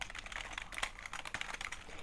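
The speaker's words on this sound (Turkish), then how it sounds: "Eğer siz de sessiz bir klavye seviyorsanız gerçekten aradığınız klavye bu arkadaşlar. Gerçekten çok sessiz." Rapid, soft clicking of keys on a Mkey MK-112 quiet, mechanical-feel gaming keyboard, a quick irregular run of light taps, close up and fairly faint, with no talk.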